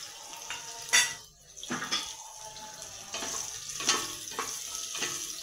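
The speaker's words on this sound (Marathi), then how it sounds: "आपण कांदा चिरलेला हा कांदा टाकतो फोडणीला." Chopped onion goes into hot oil in a pan as a base for mutton biryani, crackling and sizzling up close, with spoon stirring and metal pan clatter on top.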